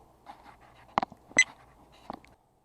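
A dog panting close by with a few short whimpers and sniffs, sparse and uneven, then falling silent.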